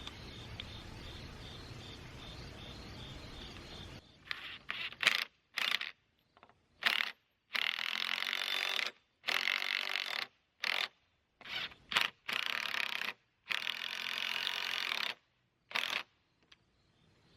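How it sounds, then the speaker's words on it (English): An impact driver sets a lag bolt into a wooden beam while a Jungle Gym Kingdom belt swing is hung, giving repeated close bursts of hammering whir, each a second or two long, separated by short pauses. "I'm just going to be attaching this into the beam with my impact driver here"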